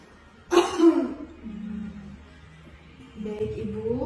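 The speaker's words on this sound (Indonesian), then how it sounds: "tarik nafas, hembuskan, batukkan Ibu" A woman patient coughs during a deep-breathing and effective-cough exercise, giving one sharp forceful cough followed by a short rough throat-clearing, then a few quieter breathy sounds, close and alone in a quiet room.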